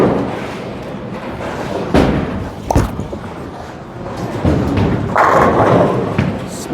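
A Motiv Pride Dynasty bowling ball rolls into the pins on a heavy-oil lane, giving a broad crashing clatter with a sharp thud near two seconds and more scattering rattles later amid alley noise.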